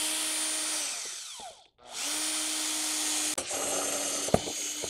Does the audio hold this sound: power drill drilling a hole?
yes